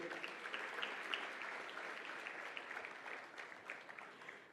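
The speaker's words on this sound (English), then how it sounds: "Another round of applause, ladies and gentlemen." Steady applause from a large audience, a dense even patter of many hands clapping that continues throughout, fairly distant and soft.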